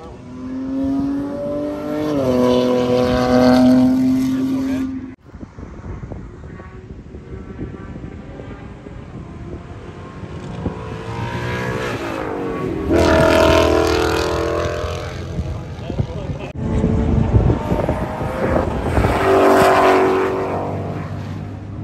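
A race car engine revving and shifting through gears on Daytona International Speedway, rising and falling in pitch as it accelerates hard, loud and close, with no speech.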